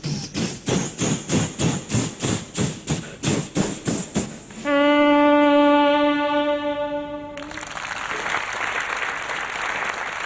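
A voice mimics a train pulling in: rhythmic chugging puffs slowing down, then a long steady horn-like hoot, followed by a hissing release.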